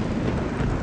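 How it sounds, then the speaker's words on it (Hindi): Heavy rain pours down in a dense, steady roar with low rumbling thunder mixed in, loud and continuous throughout. "बारिश अब भी तेज बरस रही थी।"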